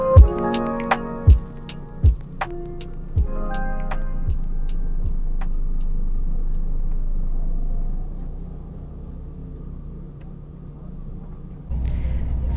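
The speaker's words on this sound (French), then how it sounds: "Faut direct après le péage, c'est redevenu lisse et ça roule correctement." Bus cruising on a smooth French motorway just past the toll on a long coach trip toward Sarajevo, a steady low rumble throughout, with a few sharp ticking knocks at the start and a louder rumble near the end.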